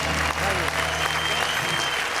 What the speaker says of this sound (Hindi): इस स्टूडियो में बजती हुई तालियां